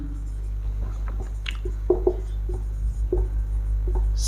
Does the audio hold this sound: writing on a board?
yes